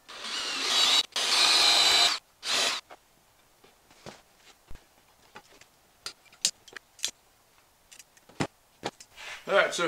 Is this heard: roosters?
no